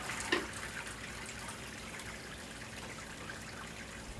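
Wort trickling and draining from the mash of a home-brewed New England IPA, a steady faint gurgling flow of liquid with one brief clunk near the start, no voices.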